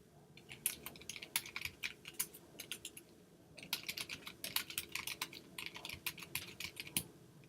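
Close, quick typing on a computer keyboard, with irregular bursts of crisp key clicks, a short pause midway, then more rapid tapping, no voices.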